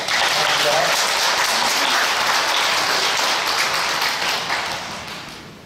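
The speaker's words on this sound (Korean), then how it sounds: "하나님께 영광의 박수, 또 우리 집사님 또 환영하는 박수 하나님께 올려드리겠습니다" A church congregation applauds in welcome, steady dense clapping filling the room at full strength for several seconds before gradually thinning and fading toward the end, with faint voices mixed in.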